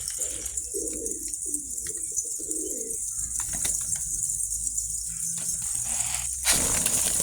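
Pet pigeons coo in low, rolling bursts near the start, kept in a coop with their feed, over a steady hiss of background noise, followed by scattered rustles, a flutter and small rattles toward the end.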